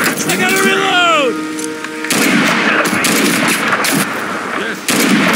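Video game gunfire from suppressing fire in a Mud and Blood Hedgerows campaign battle, loud sustained bursts and shots filling the scene, with voices calling out over the din.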